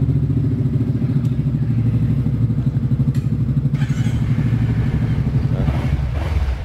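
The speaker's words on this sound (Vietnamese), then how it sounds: "Mình sẽ nổ máy cho anh em nghe thử ha." A motorcycle engine in the 300cc to 650cc class idles close by with a steady, low, rapid throb. A few light clicks and brief shifts in tone sit over the engine, and no one speaks.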